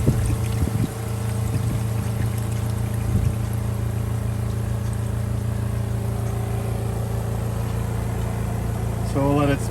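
A Costway 20 lb washing machine spins out with a steady motor hum and drone while drained water pours and trickles, continuous and close, with a brief splash and rattle at the start.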